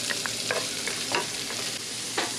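Garlic and onion sizzle steadily in a hot pan, with a few scraping stirs cutting through the continuous frying hiss.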